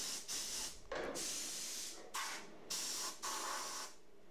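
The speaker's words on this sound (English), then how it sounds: "Still finding I need to pulse the welder on these because there's still so much contamination I just can't remove" Pulsed MIG-style welding on thin, contaminated body metal of a 1980 Opel Kadett rally car: bursts of harsh crackling hiss, each lasting about half a second to a second, separated by short gaps, close and without talk.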